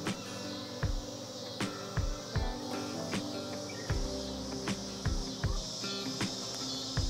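Honey bees hum around frames of raw comb left over from a honey extraction. The buzzing drones steadily throughout, broken by occasional soft knocks and thumps nearby.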